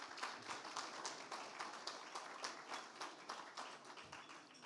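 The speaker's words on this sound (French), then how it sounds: "Merci d'avoir répondu aussi nombreux aux applaudissements." Audience applause at an opening event, a faint, steady crowd clapping heard from a distance without a break.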